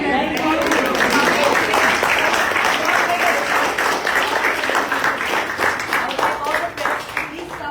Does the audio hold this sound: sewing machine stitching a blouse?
no